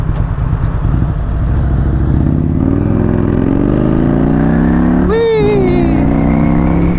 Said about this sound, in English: can you hear this whistling from my visor being up?